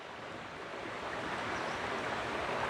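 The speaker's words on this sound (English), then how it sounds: "wonderful waterfalls." Muthyala Dharma waterfalls rush with a steady, dense roar of falling water that swells slightly louder as it goes on, with no voices over it.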